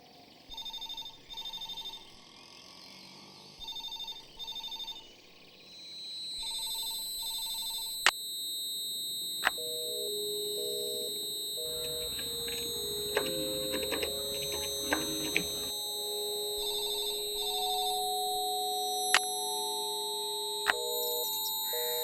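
A telephone call placed on a landline: short bursts of dial and ringing tones, then steady electronic tones and beeps like a busy signal, with some background noise in the middle and no voices.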